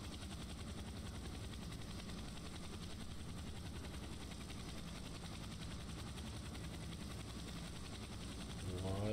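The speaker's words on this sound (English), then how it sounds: "So yeah, that's the helicopter." A helicopter in the EmergeNYC video game runs with a steady, droning rotor and engine whir, loud and continuous, rising slightly at the very end.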